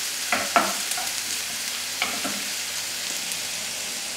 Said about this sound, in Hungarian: belerakom a aprított vöröshagymát